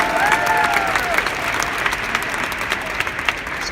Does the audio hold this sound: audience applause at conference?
yes